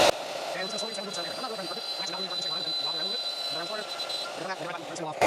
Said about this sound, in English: So let's just go ahead and set this to a 1/4 inch and turn the spindle on.